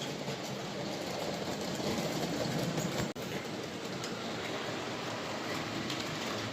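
A model railway train running on a layout, a steady rolling rumble with fine clickety mechanical texture, continuous and even, broken by one short dropout midway.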